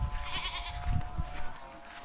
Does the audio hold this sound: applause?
no